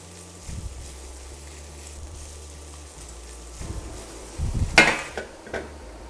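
Chopped vegetables tipped into a pan of cooking tomatoes for ratatouille and stirred, soft scraping and clattering with a low sizzle, building to a brief louder clatter near the end.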